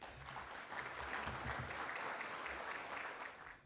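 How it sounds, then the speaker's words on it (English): Steady applause from a sizeable crowd at a gala dinner fills the whole stretch, a dense wash of clapping that holds level and tapers slightly at the end. "Please welcome His Excellency Dr. Alexei Pavlovsky to the lectern with a huge round of applause."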